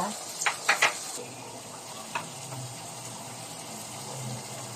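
Food sizzles steadily in a pan while it is stirred, with a few sharp clinks of the utensil against the pan near the start and a continuous frying hiss underneath.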